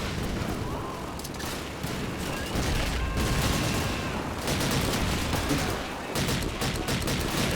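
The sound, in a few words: gunfire in video game Call of Duty 2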